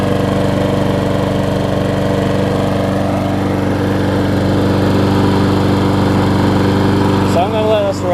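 A Troy-Bilt self-propelled lawn mower with fresh oil and a sharpened blade runs steadily up close, its loud, even engine drone holding through the whole stretch, with a brief shift in pitch near the end.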